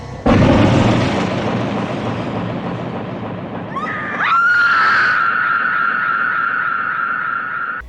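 Shotgun blast from the 1980 horror film Maniac: a sudden loud boom that decays into rumbling noise, followed by a rising shrill scream that holds under a sustained high tone.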